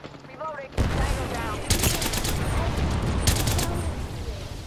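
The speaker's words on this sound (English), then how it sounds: "Yeah, suppressive fire for right now." Heavy automatic gunfire erupts in an Apex Legends firefight, sustained loud bursts of rapid shots with sharp cracks layered over one another, following a quieter opening moment.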